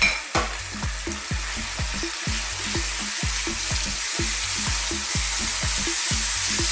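Lamb meat with bones fries in a pot with allspice, cumin powder and cumin seeds, making a constant loud sizzle over a fast, regular rhythmic thumping, with no voices.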